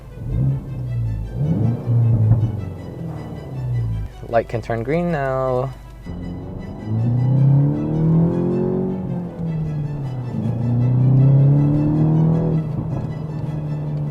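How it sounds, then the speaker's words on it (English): Aftermarket exhaust and engine drone of a Volkswagen Mk8 GTI heard from inside the cabin, rising and steady with a brief sharper burst, while a person talks over it. "Let's hear a little exhaust from the inside of the cabin."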